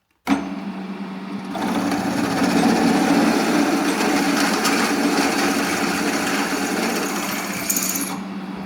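A power drill enlarges holes in wood while a garden hose hanger is built, a steady high whine running loud and close for about eight seconds after a sudden start, with no talk.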